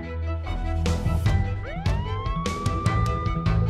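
An ambulance siren rises into a steady loud wail and holds it, mixed with sharp knocks and clattering sounds.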